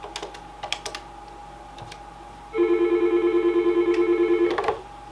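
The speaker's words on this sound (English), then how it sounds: "So I can ring between the phones" A Yealink T31P desk phone rings with a loud electronic trilling tone lasting about two seconds, after scattered light clicks and key taps from button presses on the handset.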